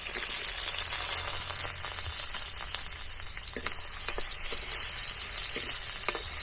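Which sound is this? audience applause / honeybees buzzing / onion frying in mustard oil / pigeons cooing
onion frying in mustard oil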